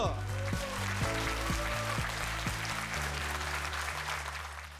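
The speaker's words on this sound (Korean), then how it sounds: "여러분의 큰 힘찬 박수로 시작하도록 하겠습니다" Audience applause at a Gyeonggi South diocese special gathering, a continuous wash of clapping mixed with sustained keyboard-like musical tones, and a voice briefly present.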